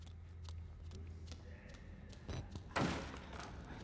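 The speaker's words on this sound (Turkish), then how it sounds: "Yine kim niye kapıyı vuruyor ya?" In Outlast Whistleblower, a couple of dull thuds land on a door late in the moment, over a low ambient hum, with the heavier knock standing out near the end.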